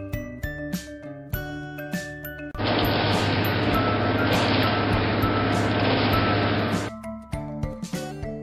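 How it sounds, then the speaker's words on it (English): Engine of a cement mixer truck churns in a loud, steady broadband rumble for about four seconds, framed by short chiming musical notes before and after. "Cement mixer."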